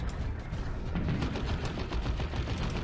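Guardsmen squads fire their guns in a Dawn of War 2 Retribution battle, a dense, continuous rattle of small-arms fire with a low rumble underneath, steady and busy throughout with no voices.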